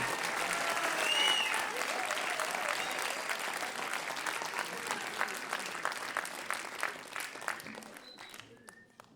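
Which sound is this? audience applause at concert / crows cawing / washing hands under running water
audience applause at concert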